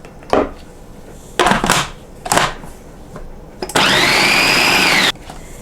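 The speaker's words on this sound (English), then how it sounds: "now I'm going to put this into the food processor" A food processor pulses roasted garlic cauliflower into rice: several short whirring bursts with chopping thuds, then one longer steady high motor run that cuts off abruptly, loud and close.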